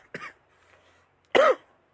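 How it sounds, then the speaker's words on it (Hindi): Two separate coughs from one person, a short light one followed a second later by a louder, harsher one, near and otherwise quiet. "सॉरी, खांसी हो गया।"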